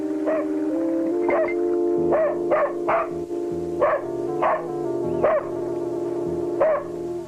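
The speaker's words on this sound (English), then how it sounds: "she was distracted by the incessant barking of her dog" A dog barks over and over in sharp, repeated yelps, about ten barks spread across the stretch over a steady tonal background, fairly close and insistent.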